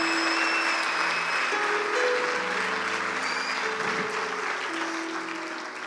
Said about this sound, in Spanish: Dale un aplauso fuerte al Señor Jesús.